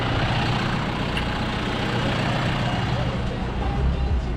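Steady low rumble of a John Deere 6105 tractor's diesel engine running on a farm, constant and fairly loud throughout, with a voice partly over it.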